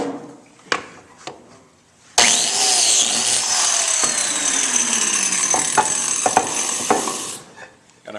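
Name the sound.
biscuit joiner cutting slots in table leg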